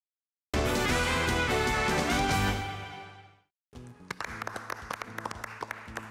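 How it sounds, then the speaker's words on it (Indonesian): Two hosts on an Indonesian investment talk show clap for themselves in an empty studio with no audience: a burst of bright clapping that fades out, then after a pause a sparser, close round of individual claps over a low musical bed. "jadi ya kita tepuk tangan sendiri aja"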